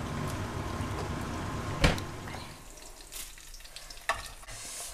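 Ribbon fish frying in a pan with a steady close sizzle, a sharp scrape partway through and a quieter spattering after, ending with another short knock.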